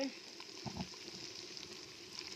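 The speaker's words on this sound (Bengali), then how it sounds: "এই যে ভাজতে দিয়েছি, ভাজা হচ্ছে" Small fish coated with onion, dried chili, salt and turmeric fry in a pan with a quiet, steady sizzle and a few soft clatters near the start.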